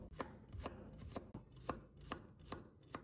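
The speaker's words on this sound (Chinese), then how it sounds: "蒜末我们要剁细一点，不要剁得太粗了" A knife chopping garlic into fine mince on a cutting board, with regular quick thuds about two per second, close and quiet with no voices.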